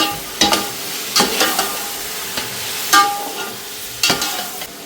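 Onion, tomato and bay leaf fry in a pan for a Marathi-style mud crab curry, a steady close sizzle broken by several sharp scrapes and clinks of a spoon stirring, with no talking.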